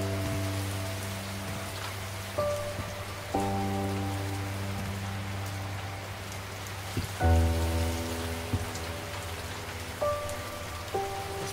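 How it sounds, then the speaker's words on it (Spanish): Rain falls outside in a steady, dense patter across the whole stretch, with low sustained tonal tones running underneath and no voices. "Afuera llueve."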